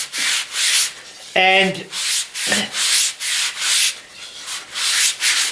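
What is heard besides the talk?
sanding a jigsaw-cut pine circle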